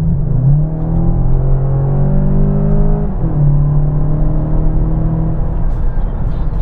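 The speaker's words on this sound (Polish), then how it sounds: "tryb GTE daje nam jeszcze efekt dźwiękowy w postaci generowanego z głośników pomruku" A steady, low engine growl hums continuously with smooth rising and falling tones, sounding synthetic and close, with no talking; generated through the speakers of a Volkswagen Passat GTE plug-in hybrid.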